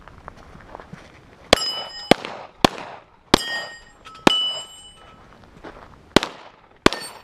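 Sharp, loud gunshots from a Canik TP9SFX pistol on a shooting course ring out about eight times in an irregular string, each with a short metallic ring and echo, against quiet outdoor background.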